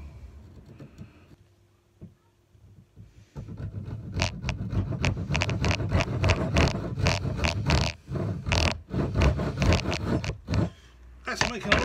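A saw cutting down a wooden hammer handle along its length, loud rapid rasping strokes close by after a quiet start, with brief pauses.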